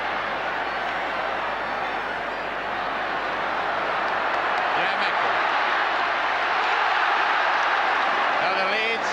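Leeds rugby league crowd at the 1978 Challenge Cup Final against St Helens, a broad roar of cheering spectators swelling steadily in a large stadium, with a commentator's voice faintly over the noise.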